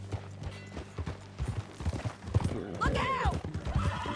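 Horse hooves clip-clop at a steady gait with a creaking, mechanical rattle in Red Dead Redemption 2, then a horse gives a loud neigh partway through while someone shouts briefly over the riding sounds.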